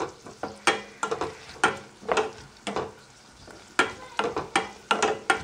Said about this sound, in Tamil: இது ஈரப்பதம் போக நல்லா கிறிஸ்பியாக ஆகிற அளவுக்கு நம்ம வறுத்துக்கலாம்.